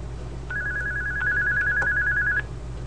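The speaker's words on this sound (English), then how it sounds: "Phone ringing here." A telephone rings with a steady warbling electronic tone for about two seconds, heard indoors over a constant low background hum.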